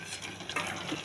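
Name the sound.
stirring millet pongal in a pot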